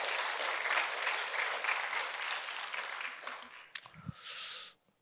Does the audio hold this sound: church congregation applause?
yes